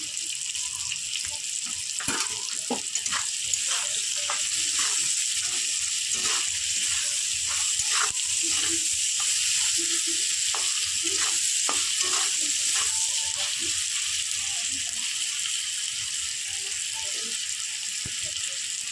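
Pumpkin leaf paste with shrimp frying in a pan gives a loud, continuous sizzle and crackle, close by, with occasional stirring scrapes and soft knocks underneath.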